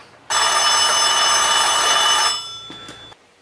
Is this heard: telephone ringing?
yes